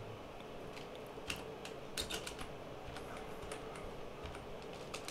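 Keys tap on a computer keyboard as a search term is typed in Windows, giving a few quiet, irregular clicks against a soft background hum.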